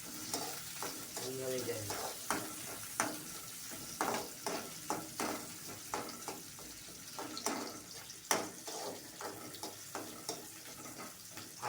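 Chopped onions frying in a pan while a utensil stirs them, producing repeated scraping strokes over a steady sizzle; a short spoken phrase briefly overlaps.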